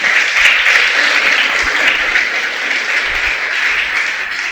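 A church congregation at a Sabbath service applauds in sustained, dense clapping that stays loud and steady, with no voices rising above it.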